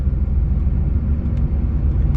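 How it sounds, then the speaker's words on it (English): Car engine idling at operating temperature after a Hypertech chip install, a steady, loud low rumble held close and unbroken throughout. "the idle is good, the car is at temperature"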